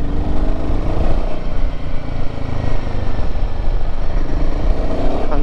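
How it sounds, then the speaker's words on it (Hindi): A Royal Enfield Himalayan 450 motorcycle runs with a loud, continuous low exhaust rumble close by, steady throughout with no talking over it. "एग्जॉस्ट की तो आवाज भी बढ़िया है इसकी।"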